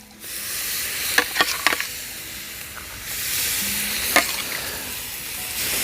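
Marinated ostrich steaks hit a hot barbecue grill over direct heat, setting off a loud, steady sizzle and hiss with a few sharp crackles and pops scattered through it.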